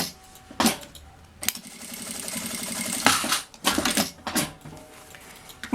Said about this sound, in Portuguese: E eu vou costurar ela bem aqui onde eu fiz esse pique, essa marcação do meio